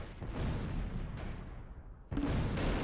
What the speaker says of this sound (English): Artillery starts landing inside the middle of the field.